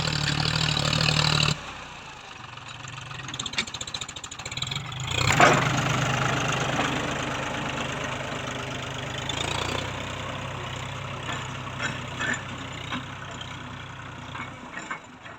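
A Kubota tractor with a three-cylinder engine idles with a steady, low, rumbling drone that shifts briefly early on and then holds evenly.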